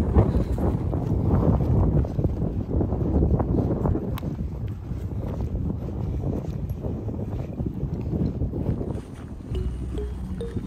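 Gusty wind buffets the microphone on a cold mountain trail, a continuous low roar that swells and eases, with faint footsteps or rustling beneath it.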